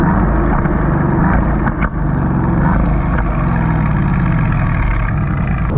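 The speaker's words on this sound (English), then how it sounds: "there is something about the exhaust note on the AMGs" Mercedes-AMG GT S sports car engine with the loud, cackling AMG exhaust note, a steady, close, full-bodied rumble lasting several seconds with no talking.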